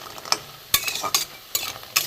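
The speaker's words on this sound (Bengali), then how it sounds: "বড়াগুলো উল্টে পাল্টে একটু লাল করে ভেজে নিয়েছি" Lentil fritters fry in hot oil with a soft background sizzle. A spatula turns them in a few sharp, scraping strokes, close to the microphone.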